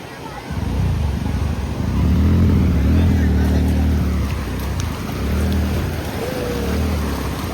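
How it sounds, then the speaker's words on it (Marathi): Rough sea surf at Ganpatipule beach roars loudly and continuously, a close, broad wash of breaking waves with people talking over it. "समुद्र बघा कसला खवळलेला आहे"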